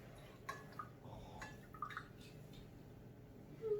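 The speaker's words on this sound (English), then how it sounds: "So I'm going to put in 150 milliliters of water." Water, 150 milliliters, poured into a glass beaker for a boiling-point test, making faint, quiet drips and soft trickles scattered over a low background hum.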